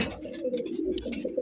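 High-flying Giribaz pigeons coo in a short burst of soft, low murmuring calls, close and fairly quiet, with faint chirps above and no talking.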